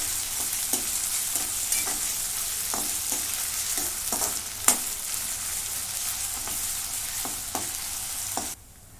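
Ginger-garlic paste sautéing in a hot pan makes a continuous close sizzle, with a spatula tapping and scraping in a loose rhythm of a dozen or so strokes, alone without speech, cutting off near the end.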